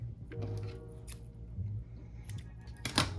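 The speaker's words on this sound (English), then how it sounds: "then you can just snip it from there" Scissors snip a crochet yarn tail close to the mic, a few quick soft cuts and faint handling rustles in a quiet room, with one sharper snip near the end.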